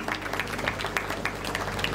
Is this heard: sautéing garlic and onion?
no